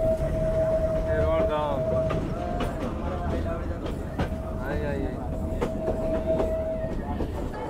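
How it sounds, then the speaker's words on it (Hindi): Metre gauge train arriving at Phulad junction, a steady close rumble with clattering wheels and a long tonal squeal from the running gear, while people talk faintly in the background. "हमारी ट्रेन पहुँच रही है अभी फुलाद जंक्शन"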